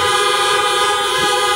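Car horns honking continuously in a parking lot during an outdoor drive-in church service, a loud, sustained blare of several horns overlapping for the whole stretch.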